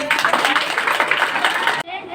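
Children clap their hands together at a Children's Day (Bal Diwas) school event, a dense, steady patter of many small hands for nearly two seconds before it cuts off abruptly.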